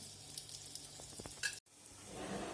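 Steady crackling sizzle of eggplant frying in a hot pan, with a few soft clinks, then a brief cutoff before the sizzling resumes.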